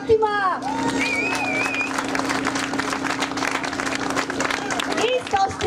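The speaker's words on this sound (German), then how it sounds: "Ein Applaus für Fatima" Audience at a Romaday 2017 event in Berlin applauds in a continuous patter of clapping at moderate distance, with voices and a brief melodic tone mixed in over a steady background hum.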